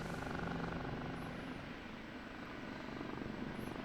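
An OH-58D Kiowa Warrior helicopter in the DCS flight simulator settles in to land, its rotor and engine making a steady, moderately loud droning whir with a faint pulsing beat throughout.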